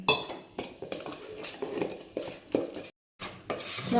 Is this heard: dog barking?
no